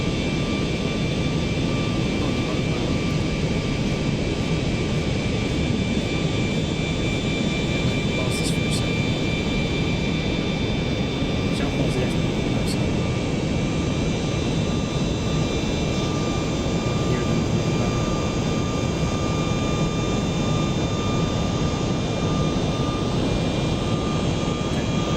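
Jet airliner engines roar in a steady, loud, unbroken whine and rumble during takeoff in the Aerofly FS flight simulator game, holding constant for the whole stretch with no talking.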